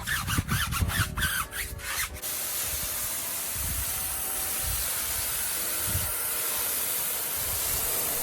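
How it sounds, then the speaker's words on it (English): Water sprays steadily onto a car wheel rim and tires, a loud continuous hiss close by, following a few sharp clattering knocks at the start. "Now as I'm rinsing off the rim and tires"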